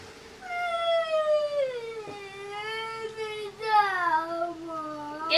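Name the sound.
cat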